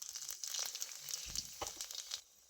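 Two dried red chillies and panch phoron hit hot mustard oil in a kadai, giving quiet intermittent crackles and sizzling bursts, with a stir or clatter midway before fading near the end.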